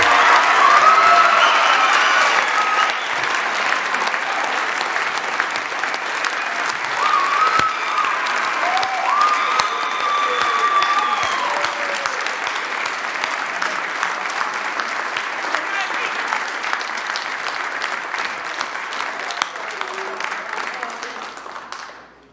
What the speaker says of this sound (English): Would you please put your hands together loudly and applauding for Rieger Marks.